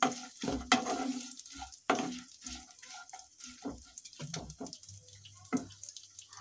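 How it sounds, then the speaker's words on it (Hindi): Raisins roasting in ghee in a pan on a home stove, with light sizzling and stirring clinks and scrapes in short irregular bursts, fairly quiet and close. "घी के अंदर ही भून लूंगी।"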